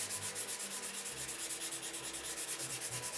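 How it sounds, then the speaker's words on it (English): Steady, rhythmic sanding scrapes back and forth on a wheel pan, close and fairly quiet, with no voices. "I'm still sanding."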